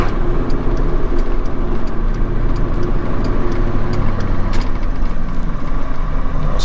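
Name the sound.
Ford Powerstroke diesel truck accelerating through the gears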